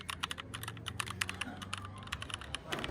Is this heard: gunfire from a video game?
no